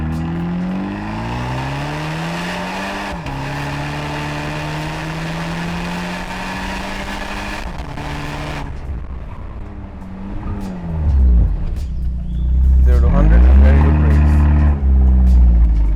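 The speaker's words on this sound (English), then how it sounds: "So launch the car." An Abarth 124 Spider 1.4-liter turbo convertible sits at a steady idle with engine burble, then launches hard from an intersection, its engine roaring loud and close as it accelerates through the final seconds.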